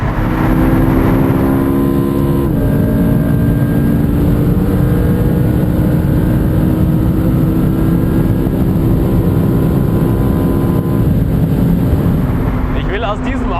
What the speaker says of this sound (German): Also der Sound, wenn er dann über 8000 dreht.